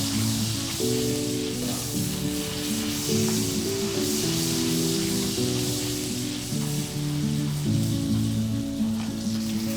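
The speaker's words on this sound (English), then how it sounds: "No, sizzling sound of the steak." Steady, close sizzling of steak frying in a hot pan, with soft music playing underneath throughout.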